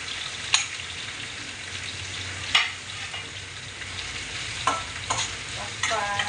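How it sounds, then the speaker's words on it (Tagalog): Vegetables and ginger stir-frying in a pan, with a steady sizzle running throughout and a few sharper clatters of stirring at intervals; no talking. "Luto tayo ng gulay para may ulam."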